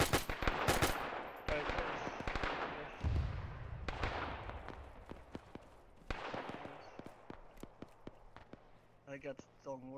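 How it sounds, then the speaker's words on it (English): Rapid bursts of machine gun fire in the ARMA 3 IFA WW2 mod, during a 1942 Operation Torch beach landing. Short rattling volleys repeat throughout, some loud and some more distant, with someone talking over them. "There's a machine gun up there somewhere."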